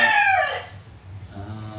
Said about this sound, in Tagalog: maingay yung manok dito kasi yung